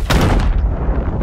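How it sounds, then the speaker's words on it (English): A single loud shot booms in Sea of Thieves, a heavy blast whose rumbling tail rolls on and slowly fades, with no voices over it. "Heard a shot."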